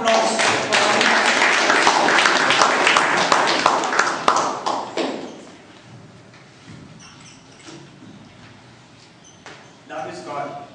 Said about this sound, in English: Big round of applause for Arvind.